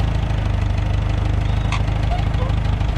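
A tractor engine idles and chugs steadily in creeper gear as it slowly pulls off on a Manitoba farm, its low rhythmic throb close and constant with a brief voice over it.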